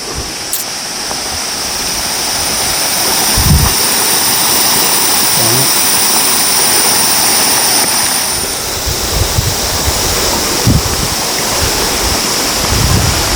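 A loud, constant roar of rushing water from a mountain waterfall on the Agasthyarkoodam trek fills the scene, steady and close, with a few soft low thumps underneath.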